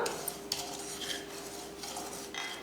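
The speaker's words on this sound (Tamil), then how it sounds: "ஒரு கடாய் வச்சுட்டு இந்த மாதிரி சின்ன கப்பில் ஒரு கப் அளவுக்கு ரவை சேர்த்துக்கிறேன் வெள்ளை ரவை இப்போ இதை வறுத்தரலாம்" White semolina being dry roasted in a kadai for rava kichadi, with soft gritty scraping and a few metal clinks of the spoon against the pan, close and fairly quiet without any frying sizzle.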